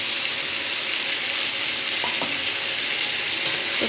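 Spice paste with turmeric and salt sizzling in hot oil in a pan, a loud, steady crackling fry with a couple of faint clinks, no talking.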